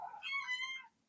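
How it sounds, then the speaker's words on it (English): A cat gives a single short meow, clear and close but fairly soft, lasting under a second before falling silent. "That's a cat."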